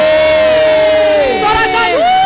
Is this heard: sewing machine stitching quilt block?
no